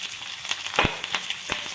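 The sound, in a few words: tempering spices, curry leaves frying in hot oil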